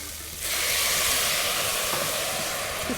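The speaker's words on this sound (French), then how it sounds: "Je déglace au pastis." Fennel and shallots in a hot pan deglazed with pastis, bursting into a loud, steady steamy hiss that starts abruptly and holds close up.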